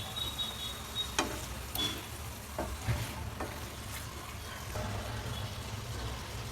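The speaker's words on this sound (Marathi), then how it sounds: "5 मिनिटं याला फ्राय होऊ दिलंय असं चिकनला मस्त पैकी" Chicken pieces fry in a pan for a restaurant-style chicken gravy, a steady close sizzle with occasional sharp pops and light clinks, no voices.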